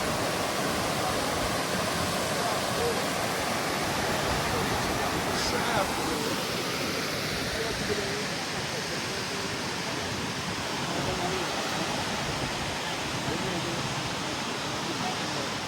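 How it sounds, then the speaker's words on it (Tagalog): Dunn River Falls in Jamaica roars as a steady, broadband rush of falling water, loud and unbroken for the whole stretch, with a faint voice briefly audible over it. "nagtakos yung tubig sa falls, Dan River"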